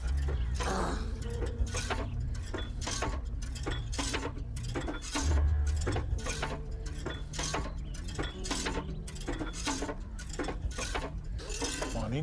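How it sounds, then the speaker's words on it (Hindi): A hand pump is worked to draw water, giving steady repeated metallic creaks and clanks of the lever in a regular rhythm, continuous and fairly loud. "अपने शुभ हाथों से नल चलाकर पानी निकालो।"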